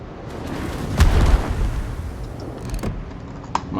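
A Pommern battleship fires on the player during a World of Warships battle: one deep, fairly loud boom with a rumbling tail, followed later by fainter distant thuds.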